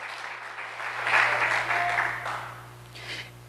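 Church congregation applauding: a short swell of clapping rises, peaks, then fades over a steady low hum, with a voice faintly present.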